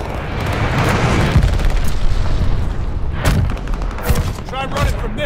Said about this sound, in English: Got an enemy glide bomb on the way.